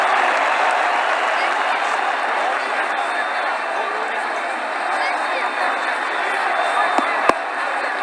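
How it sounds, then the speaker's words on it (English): A cricket crowd at an Ashes Test match applauds a boundary with steady, dense clapping that carries on throughout, with commentary talk over it. "The crowd really enjoyed that one."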